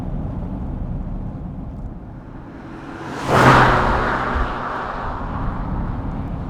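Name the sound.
Daimler Double Six V12 engine cruising in third gear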